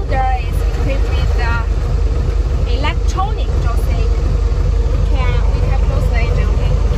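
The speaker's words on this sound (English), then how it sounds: "now let me start the engine" WOLF Mini780T compact loader engine running with a steady low diesel rumble throughout, while a voice talks over it nearby.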